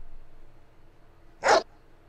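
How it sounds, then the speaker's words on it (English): A single short dog bark played as a sound effect, sharp and isolated against a quiet, faint background. "I've got dogs."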